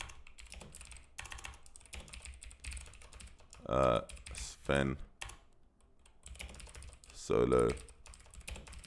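Rapid clicking on a computer keyboard while a GUI program is being built, with soft keystrokes running throughout and a person talking briefly between them.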